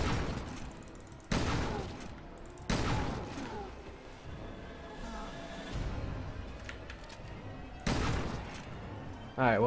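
Shotgun blasts in the survival horror game Resident Evil Revelations 2 come as several loud, separate booms spread through the scene, with quieter game sounds and movement between shots.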